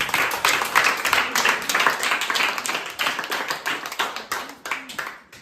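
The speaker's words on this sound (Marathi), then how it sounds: "दुर्गासाठी पुन्हा एकदा टाळ्या होऊ द्या" A group of students claps continuously in a classroom, producing dense, even applause throughout with slight swells. No talking is heard.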